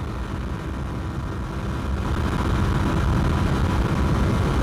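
Shineray Tricker 250 motorcycle running flat out at top speed on a slight downhill, a constant broadband engine and wind roar that grows a little louder midway, no talking.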